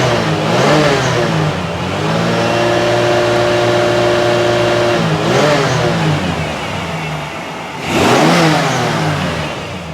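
A 1988 Lincoln Town Car's engine revs up and falls back three times in close, loud succession, each pull rising sharply in pitch before settling into a steady idle hum, with no voices.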